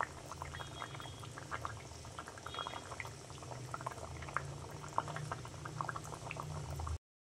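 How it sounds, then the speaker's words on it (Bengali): Fish curry bubbling steadily in a pot on a gas stove, a continuous close simmer of small popping bursts with no talking. "মাছগুলো দিয়ে 1 মিনিট ফোটাতে হবে।"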